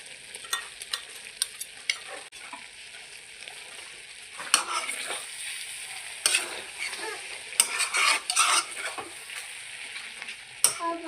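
A ground paste of ginger, garlic and dried chili fries in a pan for a pork boil with elephant apple, giving a soft background sizzle broken by repeated sharp scraping and stirring strokes of a utensil against the pan, close and busy, no voices.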